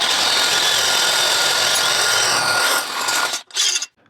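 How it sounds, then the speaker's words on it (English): A power drill with a 7/16 bit whines loudly and steadily as it bores into metal for a rivet nut, then cuts out and briefly spins up again before stopping. "Now we're gonna drill our 7/16 drill bit into here."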